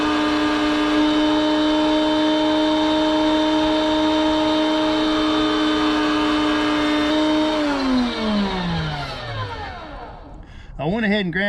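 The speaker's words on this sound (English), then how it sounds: "I went ahead and ground up those pieces that had a little bit of silver skin in it." An electric meat grinder running through pieces of deer meat: a loud, steady motor whine holds for several seconds, then winds down as the motor slows to a stop.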